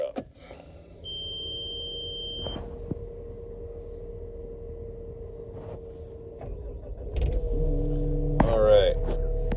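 A Caterpillar 299D3 track loader starts up: cab electronics beep and hum steadily at first, then the diesel engine cranks and catches near the end, settling into a low rumble with a rising whine.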